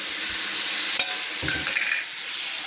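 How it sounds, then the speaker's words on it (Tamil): Capsicum, onion and tomato frying in a pan are stirred, giving a continuous soft sizzle with a few scraping and clinking strokes of a spoon against the pan, close and fairly loud. "இந்த குடமிளகாய், வெங்காயம், தக்காளி எல்லாம் நல்லா சுருளை வதங்கி வரட்டும்."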